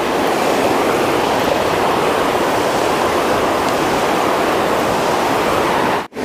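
A river rushes steadily under a suspension bridge near Tambunan, Sabah, as a loud, unbroken wash of water with no voices, cut off briefly near the end.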